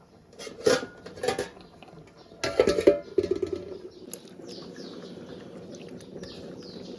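A lid clatters down onto a cooking pot of simmering tuber tamarind curry with a few sharp metallic knocks and scrapes, followed by a low steady simmer with faint bird chirps in the background.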